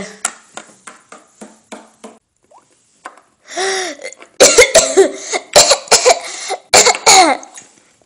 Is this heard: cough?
yes